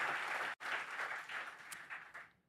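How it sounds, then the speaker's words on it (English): A summit audience applauds an introduction, a dense burst of clapping that cuts out for a split second, resumes and then tapers off toward the end. "Can we have another round of applause for this amazing introduction by Karthik?"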